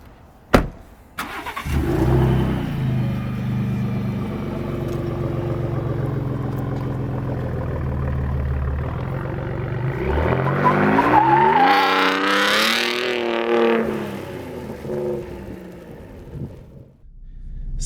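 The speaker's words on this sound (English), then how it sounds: "Setting off in the 2019 Ford Raptor Hennessey VelociRaptor." Hennessey VelociRaptor, a tuned 2019 Ford Raptor truck, starts with a click and thump, then its engine rumbles steadily before climbing into a loud, rising rev as it pulls away, fading at the end with a few knocks.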